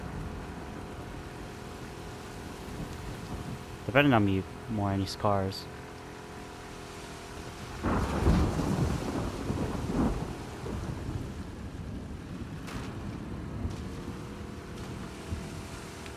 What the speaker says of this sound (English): this thundering does not stop